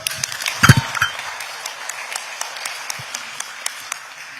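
Scattered clapping at a gathering where a national president is welcomed, a few sharp close claps early, then sparse, fainter claps thinning out with little talk.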